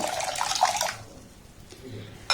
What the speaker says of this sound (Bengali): জল দিয়ে চালটাকে প্রথমে 4 থেকে 5 বার পাল্টে পাল্টে আমি খুব ভালোভাবে ধুয়ে নেব